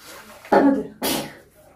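A small pet, called a pasha, sneezes twice in a home during bathroom cleaning: a short burst followed by a louder, hissy second sneeze, close by, with faint background noise.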